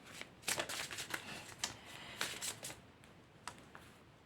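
Oracle cards shuffled by hand in quick, irregular riffs and flicks, a close, soft papery slapping that comes in bursts and then thins out toward the end, with no voices.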